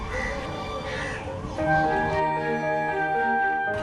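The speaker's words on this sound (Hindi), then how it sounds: "छत पर बैठे कौवे की कांव कांव आगंतुक के आने की पूर्व सूचना लोग मानते हैं" A crow perched on a rooftop caws a few times amid a backdrop of background music, with no one speaking.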